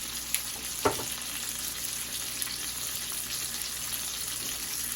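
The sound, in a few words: steaks frying in butter in a pan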